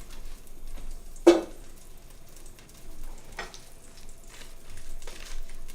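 Onions frying in butter in a pan for French onion soup, a soft steady sizzle running throughout with a few sharper crackles and stirring scrapes.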